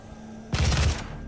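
A big gun fires in the VR game Doom VFR on PSVR with the Aim controller: one heavy, loud blast with a deep booming body that rings out for about half a second, then fades into quiet game ambience.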